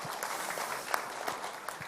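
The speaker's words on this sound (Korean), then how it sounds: "박수 한번 크게 부탁드리겠습니다." A lecture audience claps briefly, a soft, steady patter of many hands at moderate distance with no talking over it.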